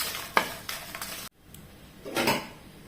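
Dried chilies and a sprig of curry leaves fry in oil in a pan for mango curry, a soft sizzle with several sharp spatula scrapes, then a brief drop to near silence before a louder stirring rustle resumes.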